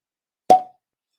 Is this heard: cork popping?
yes